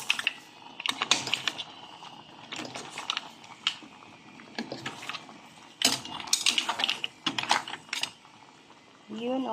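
Metal spoon stirring sinigang in a cooking pot, a rapid run of scraping clinks and knocks against the pot, close and fairly loud, with brief pauses between bursts.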